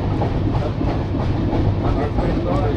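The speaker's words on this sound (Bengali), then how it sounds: "এইমাত্র ট্রেন খড়গপুর এন্টার করছে" Dhauli Express, running about two hours late, rolls into Kharagpur station with a steady rumble and rhythmic clatter of wheels over rail joints, heard close and continuous from on board.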